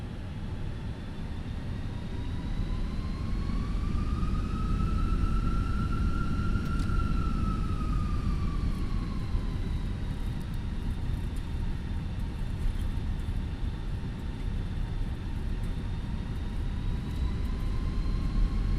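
An airliner in Microsoft Flight Simulator rolls for takeoff, a loud steady engine roar with a rising and falling turbine whine, continuous and close, no talking.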